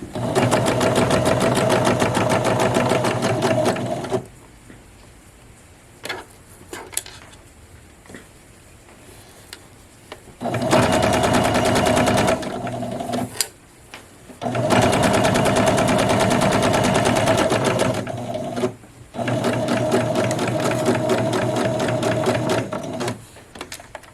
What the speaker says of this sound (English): sew straight towards it